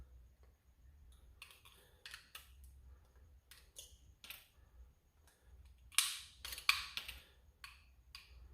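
A Nerf Trilogy DS-15 blaster fires short darts, producing a series of sharp, close snapping pops and clicks with loading rattles between them, the loudest shots bunched near the end.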